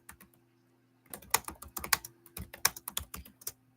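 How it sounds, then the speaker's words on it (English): Rapid bursts of computer keyboard typing, close and crisp, pausing briefly before a denser run of keystrokes, with a faint steady hum underneath and no talking. "typing another thing in the chat because I forgot to write this"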